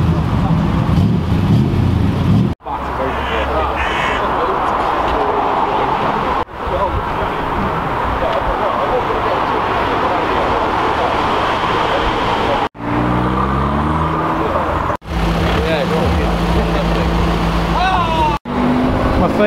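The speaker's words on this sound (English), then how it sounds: "Doing some revving." At an August car meet, engines rev loudly and steadily amid dense roadway-like noise, broken by a few brief cut-outs, with voices mixed into the din.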